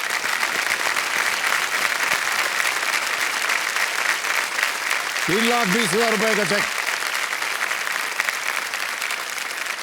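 Sustained applause from a studio audience on the KBC Season 14 quiz show set, loud and steady throughout, with a short musical sting rising briefly in the middle and a voice speaking over the clapping.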